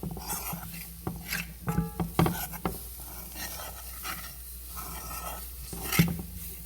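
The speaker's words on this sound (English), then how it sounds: "I'm just gonna go ahead and blend all the ingredients together, which is the flour and the veggies still" A spoon stirs flour and vegetables together in a pot for a chicken potpie filling, giving scraping, mixing strokes with a few sharper clanks against the pot and a faint sizzle underneath.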